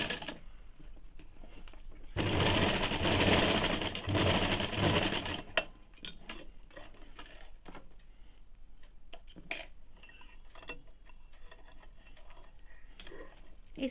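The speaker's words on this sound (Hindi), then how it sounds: "इस प्रकार से उल्टे के तरफ रख के इसको सिलाई चलाएंगे।" A sewing machine stitches a strip onto ladies' pants, a fast, steady mechanical whir in one burst of about three seconds, followed by quieter clicks and handling sounds.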